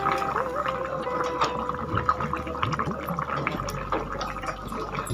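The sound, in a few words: Rohu fish pieces dropped into boiling curry broth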